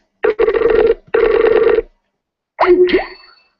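An old-style telephone rings in two loud, buzzing bursts, then a brief warbling electronic tone follows after a pause.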